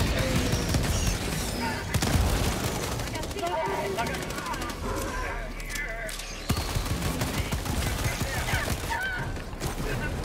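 Dense, continuous gunfire from several weapons in a Helldivers 2 firefight, bursts and rapid shots piling up over loud battle noise, with a sharp crack around the middle.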